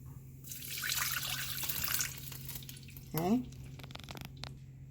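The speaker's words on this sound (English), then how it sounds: "all that rice and water went in there" Rice and water pour into an Instant Pot for jackfruit biryani, a close, steady rushing pour that ends in a brief splash and gurgle, then a low hum continues underneath.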